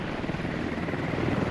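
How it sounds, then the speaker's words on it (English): A US military helicopter in a competitive Squad match on the Yehorivka map churns out a dense, steady rotor drone with a fast chopping pulse, loud and close for the whole short stretch, with no voices over it. "This US chopper has to leave or get his machine gunner in position."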